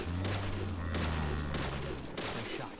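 A gunshot from the video game Deadly Premonition, one of four evenly spaced loud shots cracking over a low droning hum, fairly close.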